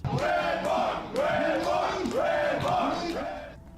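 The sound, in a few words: crowd cheering at a roast battle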